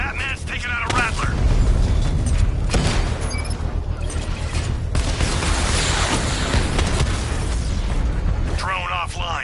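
Batman takes out a Rattler drone in a PS4 video game with heavy booms, rumbling blasts and bursts of gunfire-like impacts that stay loud throughout, with brief voices at the start and end.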